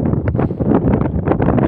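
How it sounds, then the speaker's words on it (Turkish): Strong wind gusting across an open hillside where a shepherd tends a flock, a loud, continuous buffeting roar that surges and dips across the whole stretch with no voices. "rüzgar çok etkili"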